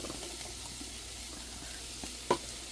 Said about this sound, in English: Now what I need to do is throw in my beans.